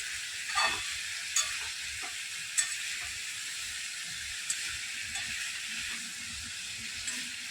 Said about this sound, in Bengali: 3 থেকে 4 মিনিট আমি সবজিগুলো খুব সুন্দর করে নাড়াচাড়া করে নিয়েছি